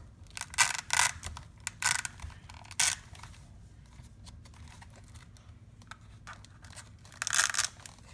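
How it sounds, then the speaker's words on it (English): Velcro on a homemade shocker gauntlet is pulled apart in several short, rough tearing rips, close up and clearly separated by quiet gaps, with a final burst near the end. "So press on this to disengage the Velcro."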